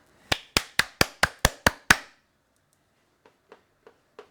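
Eight sharp hand claps in a steady, quick rhythm, close and loud, followed after a pause by four fainter, scattered claps; no talking.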